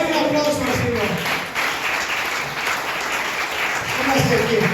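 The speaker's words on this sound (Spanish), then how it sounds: "Denle un aplauso al Señor" A church congregation breaks into loud, sustained applause, with a voice talking over the clapping at the start and again near the end.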